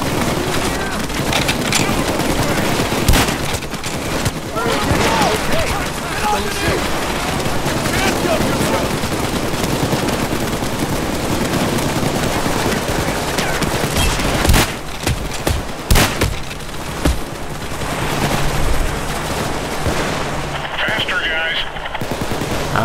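Sustained rapid turret machine-gun fire from the heist shooter PayDay 2 rattles almost continuously, dense and loud, with a few heavier bursts and booms near the middle and a brief lull at the end.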